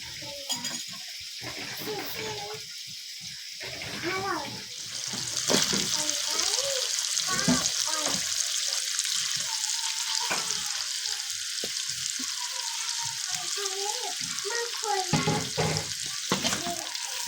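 Bamboo shoots stir-fried in a pan with fish sauce in a home kitchen, a steady crackling sizzle with stirring scrapes, growing louder after a few seconds and running continuously under intermittent speech.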